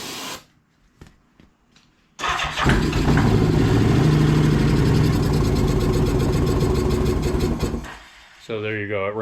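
A 1984 Honda GL1200 motorcycle engine fires up on starting fluid after a few faint clicks, roaring loud and steady for several seconds before dying away; a voice speaks briefly at the end.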